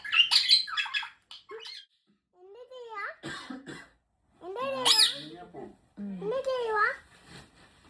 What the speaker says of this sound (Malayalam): ഓ ഒരു തത്തിക്കുഞ്ഞല്ലേ.